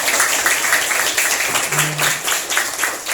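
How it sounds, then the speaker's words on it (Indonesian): A classroom group applauds a student with steady, dense clapping that fills the whole stretch at moderate loudness, with a faint hum or voice underneath. "tepuk tangan untuk Sabani"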